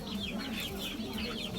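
Chickens in a Philippine farm setting cluck in quick overlapping bursts, a faint but busy chorus of short calls over a low background murmur.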